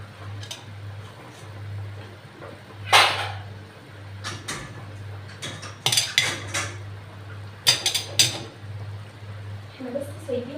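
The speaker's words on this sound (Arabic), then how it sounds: "حطي بقى المواعين في الغساله" Dishes and cutlery clink and clatter in a series of sharp, irregular knocks, with a steady low hum and some quiet talk in the background.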